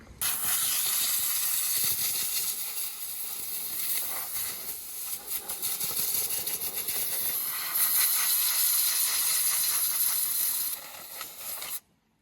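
A compressed-air gun hisses loudly and steadily in a garage while a Toyota MR2's widebody kit and turbo lid are prepped. The blast runs nearly unbroken for about eleven seconds, swelling briefly, then stops abruptly.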